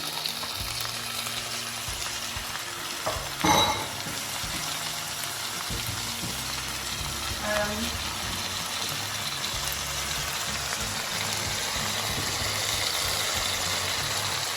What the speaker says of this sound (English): So I'm just gonna toss my prawns in.